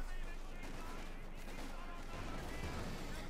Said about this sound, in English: Right into 2 machine guns ready to break it up.